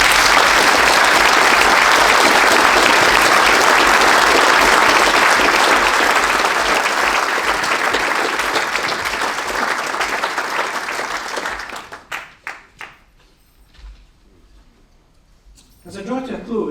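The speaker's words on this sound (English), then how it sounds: "can you please all join me and give a huge round of applause?" Audience applause at a eulogy, loud sustained clapping from a large crowd that fades out after about twelve seconds, leaving scattered faint claps and a few quiet noises.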